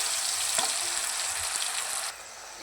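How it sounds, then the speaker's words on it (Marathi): Ground masala sizzling and frying in hot oil with curry leaves, cumin and mustard seeds for a roasted eggplant bhaji: a steady close crackling hiss that cuts off near the end, with a couple of faint stirring scrapes. "हा मसाला तेलामध्ये चांगला फ्राय करून घेऊया।"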